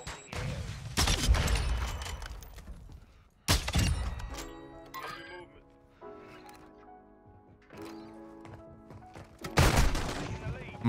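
Close, booming shotgun blasts in Call of Duty: Modern Warfare II, a few heavy shots spaced apart with ringing tails, while a player talks between them.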